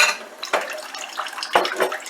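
Plain water trickles and splashes into a canning jar for home pressure canning, a close, uneven pour with a couple of sharper clinks or splashes over about two seconds.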